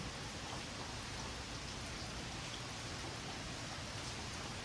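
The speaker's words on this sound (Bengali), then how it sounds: "বৃষ্টি হইতেছে অজোর দ্বারায়, দেখেন এই যে বৃষ্টি" Heavy, steady downpour heard from a second-floor veranda overlooking green trees, a dense continuous hiss of rain on surfaces that stays loud and even throughout with no voices.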